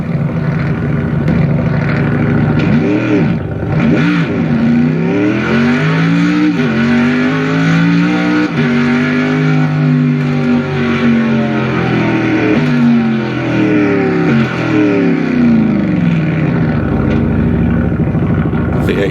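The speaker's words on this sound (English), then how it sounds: "V8 sound lovely on a good sound system" A racing simulator plays a V8 car engine through a good sound system, loud and rumbling with repeated revs rising and falling, long sustained acceleration sweeps, heard in a room.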